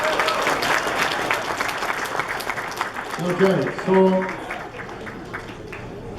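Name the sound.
audience applause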